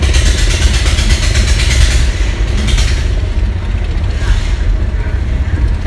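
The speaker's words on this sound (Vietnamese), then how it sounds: "Cảng cá ồn quá, tiếng máy xây xây đá anh em" A noisy Vietnamese fishing port in Phú Yên, with ice-crushing machines and engines running in a loud, continuous mechanical drone, and voices faint beneath it.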